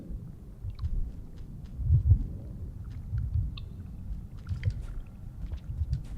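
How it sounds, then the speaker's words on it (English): A low, muffled heartbeat throbs in the video game Rain World, soft repeated thumps pulsing irregularly beneath faint ambient crackles, quiet and enveloping throughout. "The heartbeat's more active than last time we were here."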